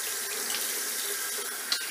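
A bathroom sink tap runs steadily for a cold rinse after a wet shave, a close, even hiss of water with a small splash near the end.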